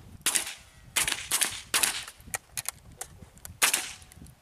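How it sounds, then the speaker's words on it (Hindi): Rifle shots crack one after another at an NCC camp firing practice range, a series of sharp reports at uneven intervals, some close together, loud against quiet outdoor background. "एक राउंड को बिल्कुल दुरुस्त फायर करो"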